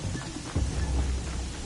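A rainstorm with wind in Horizon Zero Dawn gives a steady rushing hiss with a low rumbling swell, heard alone and fairly close.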